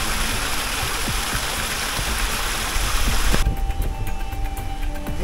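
Rushing water from a Barbados waterfall pours steadily, a broad constant roar, which cuts off abruptly partway through to quieter background.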